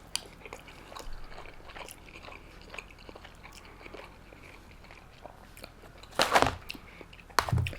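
Someone bites and chews chicken with rice and sauce, with faint soft chewing through most of the stretch and two louder, crunchier bursts near the end, close to the mic.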